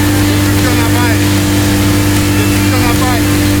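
An outboard boat motor running at full throttle on a trout fishing outing, a loud steady engine drone with strong low hum throughout, with people talking over it.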